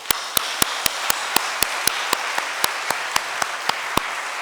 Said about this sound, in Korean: 우리 격려의 박수 좀 부탁드립니다.